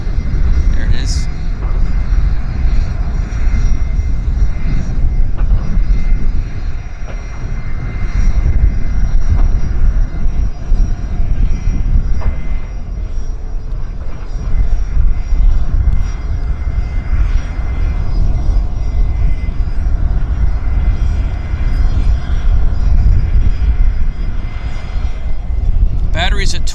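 An airliner takes off at Vancouver Airport, its engines a loud continuous roar throughout with broadband rumble that stays steady and close, and faint talk underneath.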